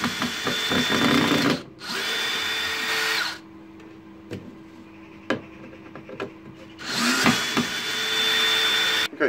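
A power tool cuts a turned wooden bowl piece in half, loud whining bursts at the start and end with a quieter gap between them holding a few sharp knocks and clicks.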